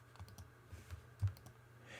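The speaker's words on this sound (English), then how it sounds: "I'll hit W on the keyboard" A single computer keyboard key gives a soft click, faint and alone in a quiet room.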